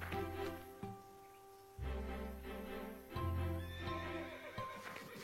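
Cartoon horses in a stable neigh and whinny repeatedly, loud and close, with clip-clopping hooves and a light musical backing between the calls.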